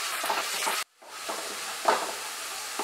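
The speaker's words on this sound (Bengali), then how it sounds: "পেঁয়াজ বাটাটা দিয়ে ভালোমতো ফ্রাই করব মাঝারি আঁচে" Onion paste frying in a pan over medium heat for a Bengali chital fish muitha, a steady sizzle and stir with a brief silent break partway through, close and fairly quiet.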